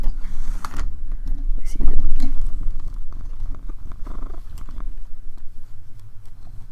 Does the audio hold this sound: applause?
no